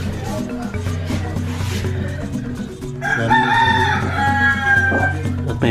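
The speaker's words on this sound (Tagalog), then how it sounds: "At may manok pang kikisali." A rooster crowing at a house under construction, a loud drawn-out cock-a-doodle-doo rising clearly over a low hum and clucking hens.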